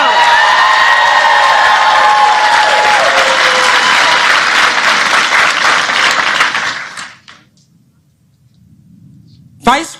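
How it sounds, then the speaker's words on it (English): Large crowd at a political rally in Georgia applauding loudly and steadily with cheers mixed in, then the clapping fades out near the end, leaving a quiet pause before a brief burst returns. "You're not clapping hard"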